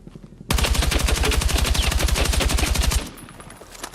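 A rapid automatic weapon fires one continuous burst of about two and a half seconds while strafing side to side in the Battlefield 6 video game. The shots are loud and tightly spaced, with quiet before and after.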